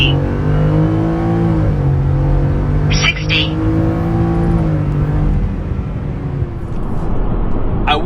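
A 2025 Ford F-150 pickup with the 5.0L Coyote V8 accelerates hard from inside the cab, its engine rising through gears in a loud, climbing drone with brief dips at the shifts and short clicks and beeps.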